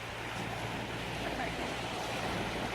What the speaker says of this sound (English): The ocean's just settling down beautifully.